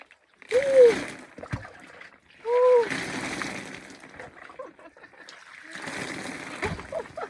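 Water splashes as someone bathes outdoors, pouring it over themselves in three loud, close bursts of sloshing and spattering, with a short voiced sound during the first two.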